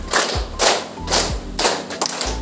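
Students in a classroom mathematics lesson clap on the teacher's count, producing several short bursts of group claps separated by brief pauses, fairly close and loud.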